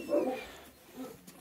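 Dogs let out a faint, high whimper and then a short yip. The sounds are close but quiet, with a brief pause between them.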